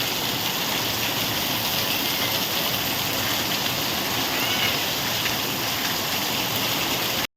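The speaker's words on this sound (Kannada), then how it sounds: "ಈಗ ಒಳ್ಳೆ ಮಳೆ" Steady, dense hiss of rain falling without pause, a uniform wash of sound filling the whole stretch with no voices.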